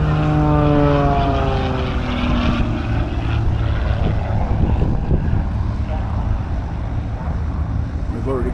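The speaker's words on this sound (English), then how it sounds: "These guys are all firing up. They're getting ready for I think they've got about a 10 aircraft display happening today." Propeller aircraft engines idle and rev at an airfield air display, a steady loud drone with rising and falling tones and a harmonic whine, near and continuous, with some wind buffeting on the microphone.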